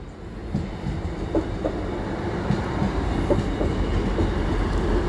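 A British Rail Class 158 two-carriage diesel train rolls past at moderate distance, its steady rumble joined by rhythmic clickety-clack of wheels over rail joints, growing gradually louder.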